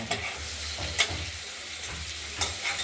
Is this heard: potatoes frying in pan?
yes